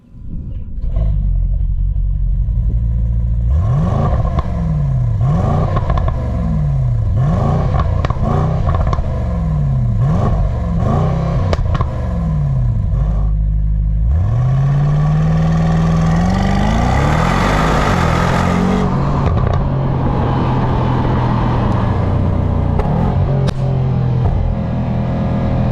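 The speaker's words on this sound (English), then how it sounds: "AMG V8s always sound really mean, very sonorous and thundering, so let's go ahead and fire this thing up." A 2024 Mercedes-AMG GLE 63 S SUV's V8 engine fires up and is revved repeatedly in sharp, close, loud blips, then holds a long deep rev before settling into a rumbling idle, with no talk.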